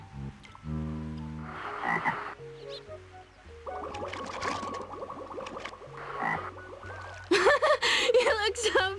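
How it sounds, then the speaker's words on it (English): A frog croaks repeatedly in the PlayStation game Legend of Mulan, the calls standing out over the game's music, with a voice talking now and then. "A frog!"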